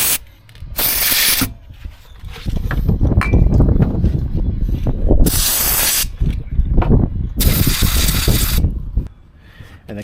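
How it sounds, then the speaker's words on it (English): Aerosol brake cleaner sprayed onto the guide channels of a brake caliper on a G82 BMW M4, three loud hissing bursts separated by clanking and rattling of tools and parts, with no talking. "So hit it with some brake cleaner."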